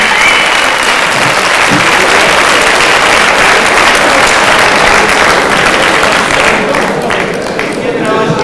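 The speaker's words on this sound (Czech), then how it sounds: "potlesk pro nejlepší kulturisty kategorii do 90 kg" A crowd at the 1998 Czech bodybuilding championship applauds the top competitors in the under-90 kg category, with loud, dense, sustained clapping throughout and some faint voices mixed in.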